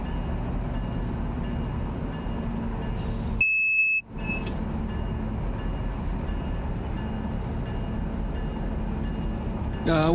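A coal unit train in the RUN8 train simulator rumbles steadily with a low, continuous rail drone, broken briefly by a short high tonal beep partway through.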